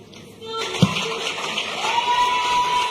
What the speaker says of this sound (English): A round of applause for Tracy.